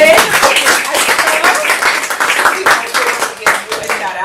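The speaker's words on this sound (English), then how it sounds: "give you another round of applause" Applause from attendees at a team meeting, a dense clatter of many hands clapping steadily throughout, close and fairly loud, with voices mixed in.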